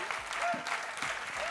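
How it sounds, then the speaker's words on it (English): An audience at an official ceremony gives a round of applause: steady, even clapping from a room of many people, close and continuous throughout. "I kind of feel like this deserves a round of applause"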